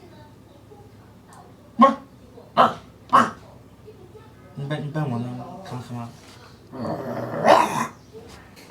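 A dog gives a few short, sharp whimpering and growling sounds close by, then people talk over the quieter moments.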